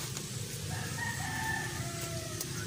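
A neighbor's rooster crows nearby in a drawn-out cock-a-doodle-doo, faint against a steady low hum and light background noise.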